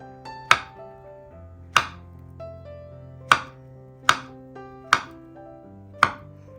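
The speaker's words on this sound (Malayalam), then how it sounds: "ഇനി ഇതുപോലെ റൗണ്ടായിട്ട് കട്ട് ചെയ്തെടുക്കാം. തീരെ കനം കുറച്ച് കട്ട് ചെയ്യണ്ട, ഇതുപോലെ കുറച്ച് കനത്തിൽ കട്ട് ചെയ്തെടുക്കുക" A knife slices a ripe banana into thick rounds on a board, each cut landing as a sharp, close tap, six in all at uneven intervals, with no talking.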